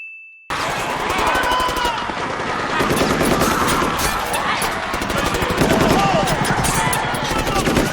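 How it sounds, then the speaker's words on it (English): Rapid automatic gunfire from several soldiers shooting rounds at walkers in a TV show scene, loud continuous bursts with metallic clangs, filling the whole clip after a brief tone. "they just showed us multiple soldiers firing multiple rounds at multiple walkers and not hitting anything but the fence"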